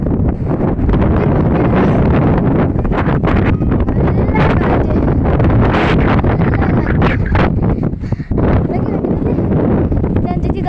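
Wind blows hard across a hilltop, buffeting the microphone in a loud, continuous roar with gusty surges and brief dips throughout.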